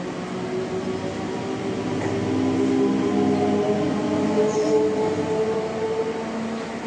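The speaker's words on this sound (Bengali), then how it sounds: "আর দেখো ট্রেন চলে যাচ্ছে" A train pulling out of a railway station, heard from inside a nearby eyeglass shop: a steady, even rumble with a low mechanical hum that holds through the whole stretch, no voices.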